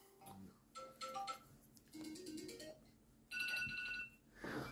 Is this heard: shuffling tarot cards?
no